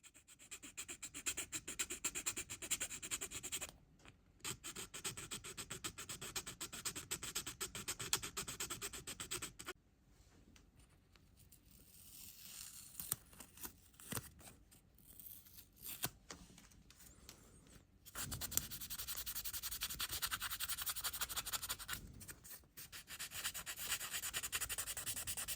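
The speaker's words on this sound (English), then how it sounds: "a file can be used to square up all the edges and corners" Hand file squaring the edges and corners of a plastic model kit body, rapid close rasping strokes in bursts separated by short pauses, quiet and alone.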